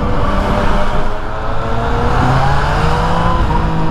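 Steady, loud roar of road traffic engines and tires passing close by during a motorcycle group ride, continuous with no talk.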